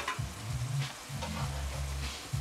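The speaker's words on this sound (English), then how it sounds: "I'll just stir it." Cabbage and shiitake mushrooms fry in a pan while being stirred, with a steady sizzle and a few scraping strokes of the utensil, close and moderately loud, no voices.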